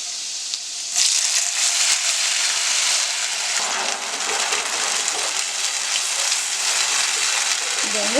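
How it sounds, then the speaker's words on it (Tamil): Orange sauce thickened with cornflour poured into a pan of vegetable kofta curry, a steady broadband sizzle and hiss that swells after a second and holds loud and continuous throughout. "இப்போ நம்ம கலக்கி வச்சிருக்கிற அந்த சாஸ் வந்து நம்ம ஊற்றிக்கலாம்."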